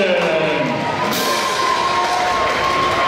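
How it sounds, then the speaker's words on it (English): A basketball game crowd in a school gym applauds and cheers during a pregame introduction, a dense steady roar of clapping and shouting that stays loud throughout. "give a big round of applause for Jara"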